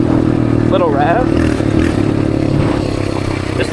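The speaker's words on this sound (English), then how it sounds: "This exhaust sounds so good." A dirt bike in the desert, its engine running with a steady throaty rumble through the exhaust and small revs, while a person talks over the engine noise.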